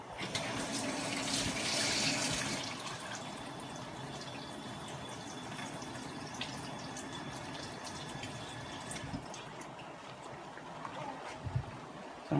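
Tap water runs steadily into a sink while seafood for a crab-leg and lobster boil is rinsed, a broad continuous splash that swells loudest near the start, then settles to an even flow.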